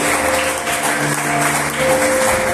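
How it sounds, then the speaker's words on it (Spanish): A church congregation applauds during a sermon, a loud, continuous burst of many people clapping together, with a faint steady tone running underneath. "denle un aplauso al Rey de Reyes"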